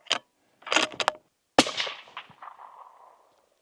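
Rifle shots fired at a target on a range: one sharp crack, a short burst of clustered bangs, then a final loud report with a long echoing tail, heard alone without talk.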